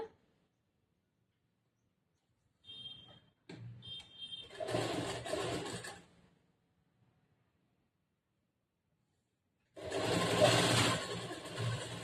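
A sewing machine stitches the side seam of a churidar top in two short bursts of fast needle rattle, separated by a quiet pause, with faint handling clicks before the first run.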